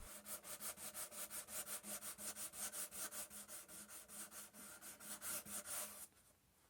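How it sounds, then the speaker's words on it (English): Steady back-and-forth hand sanding on a guitar's wooden body with a concave sanding form, about twenty rhythmic rasping strokes, close and even, stopping abruptly near the end. "Then I do a final sanding with a concave sanding form."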